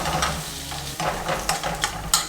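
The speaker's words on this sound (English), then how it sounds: "So just one Splenda, give that a stir." Frying onions are stirred in a pan after Splenda is added, with continuous sizzling and several scraping, clattering stir strokes close by.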